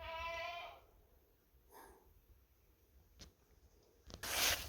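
Goats bleat in a pen at a goat farm, one clear harmonic call at the start followed by a faint second cry, then quiet rustling and a loud burst of noise at the end.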